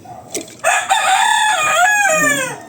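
A rooster crows once, loud and close, a long drawn-out call with a rising then falling tail.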